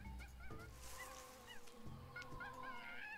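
A bird squawks in a jungle in a Monkey Island adventure game, repeated honking, goose-like calls over a droning ambient bed, with several cries close together.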